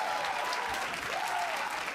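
Esports arena crowd at a North American League of Legends match applauding and cheering loudly for a TSM player on his birthday, a dense steady wash of clapping and voices throughout.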